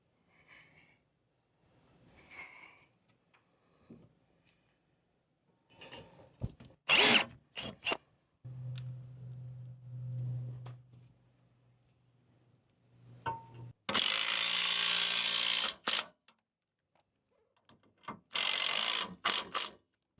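A power tool drives suspension screws during a Roadmaster Comfort Ride install, with short bursts and a steady low whirring run, then loud sustained buzzing drill runs near the end, amid quieter handling noises.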